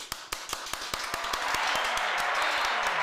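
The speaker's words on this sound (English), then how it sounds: "Give a warm round of applause, please, for Christian and Uche in the building." An audience welcomes guests with a run of sharp, evenly spaced claps that builds into dense, sustained applause.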